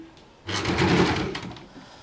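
A sewing machine stitches pleats on a half puff sleeve in one short, steady whirring burst of about a second, close by, with quiet before and after.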